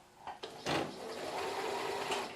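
A domestic sewing machine winds a bobbin for a home cushion project: a few short starts, then a steady, close mechanical whir that runs on without talk.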